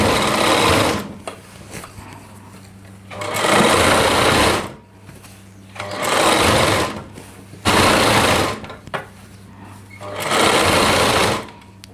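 Sewing machine stitching a heavy-work Rajputi lehenga runs in five bursts of rapid whirring, each a couple of seconds long, separated by short pauses, close and loud.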